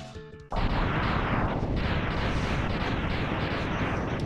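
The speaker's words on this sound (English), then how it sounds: "So he launches the homing torpedoes with his tentacles." A boss in the retro game Mega Man X fires big homing torpedoes from its tentacles: a sudden loud blast bursts in, followed by a sustained roaring rumble with repeated whooshing surges, all loud and close.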